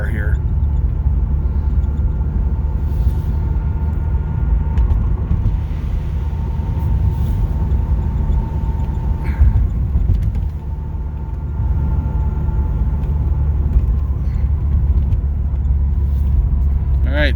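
A 1983 Porsche 944 on the road, steady loud engine drone and tyre rumble from inside the cabin throughout, with a brief dip midway and people talking over it.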